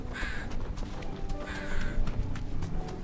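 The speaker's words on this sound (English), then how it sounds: "A lot of crows here too." Crows in Final Fantasy XVI caw in two clear bursts over a steady game ambience, fairly close and loud, with scattered clicks and rustles in between.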